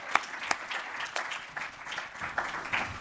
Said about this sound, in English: So give a round of applause for Jamie